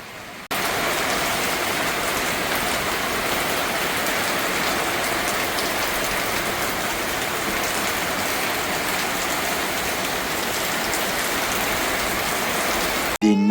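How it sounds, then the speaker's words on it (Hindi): Steady heavy rain falls in a village, a dense, even hiss of drops on surfaces that runs unbroken and loud for the whole stretch, then cuts off abruptly at the very end. "बारिश आ गई है।"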